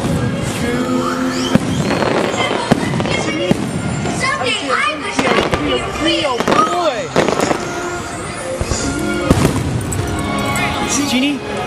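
Fireworks explode during the Disney Wishes show, repeated loud cracks and booms scattered over a busy mix of music, crowd noise and a child singing along nearby.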